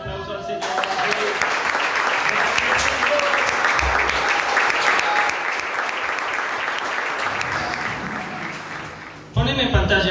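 A church congregation claps together in praise during a Spanish-language worship service, with sustained dense applause and a worship voice faintly heard under it until the clapping drops off near the end.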